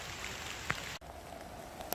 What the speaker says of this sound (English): we've turned up here in the rain